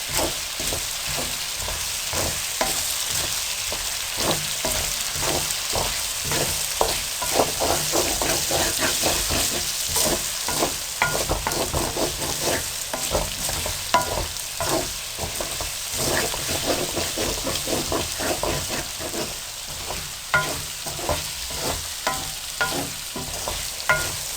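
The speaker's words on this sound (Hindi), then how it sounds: "अब आप इसको मिक्स करके फ्राई करें।" Potatoes and eggs with crushed red chili fry hard in a pan, a constant loud sizzle broken by rhythmic scraping strokes of a spoon stirring the mixture throughout.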